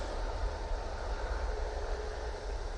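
A Jet2 Airbus A321neo rolls for takeoff at Manchester Airport, a distant, steady engine roar with a low rumble, holding at an even level throughout.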